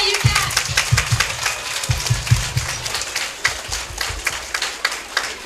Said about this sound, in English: This applause is for you because you make this happen.